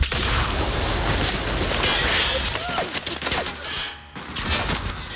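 Rapid bursts of gunfire from The Outer Worlds, loud crackling shots over a dense battle mix that briefly drops out and resumes.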